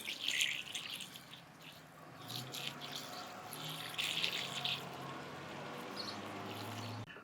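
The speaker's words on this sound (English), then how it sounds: "Topping it off with some fresh coolant." Fresh coolant pouring into the radiator of a Mercedes W210 that sat abandoned for five years, a steady trickling splash of liquid running for several seconds, fairly faint and close, with no talk over it.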